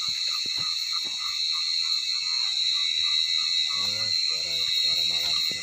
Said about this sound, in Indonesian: Suara malam teman-teman. TV, jangkrik yang terdengar.